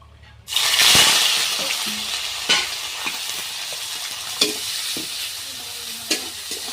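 Chopped onions hit hot oil already tempered with bay leaf and cumin, bursting into a loud sizzle that settles into steady frying, broken by scraping stirs of a spatula against the pan.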